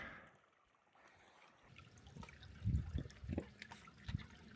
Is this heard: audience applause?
no